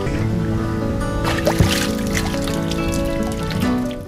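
Irrigation water flows steadily from a large spring that feeds a village, a constant close trickle and babble with a few brief splashes and no talking.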